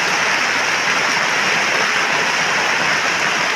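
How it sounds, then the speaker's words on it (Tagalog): Heavy rain pours down steadily, a dense, loud, unbroken hiss of water on surfaces with no pauses and no voices. "Tingnan niyo po, lakas na agad ng ulan."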